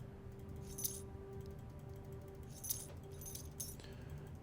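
Keys jangle in the Blue Prince video game, three short bright metallic jingles spaced apart over a low steady game music drone, with no talking.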